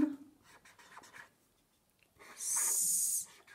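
Handwriting a letter with a pen on paper: soft, scratchy strokes come in short bursts, ending in one louder, sustained scribble near the end, all close and quiet.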